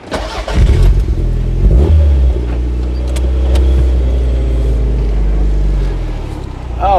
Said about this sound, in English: So let's put the pedal to the metal.